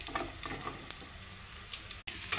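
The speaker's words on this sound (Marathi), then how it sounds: "मिरची आणि लसूण असा मस्तपैकी भाजून घ्यायचं आहे, त्यांना जरा ब्राऊन कलर येईपर्यंत।" Garlic and green chilies fry in hot oil in a pan, giving a close, continuous crackling sizzle with scattered pops and a brief dropout near the end.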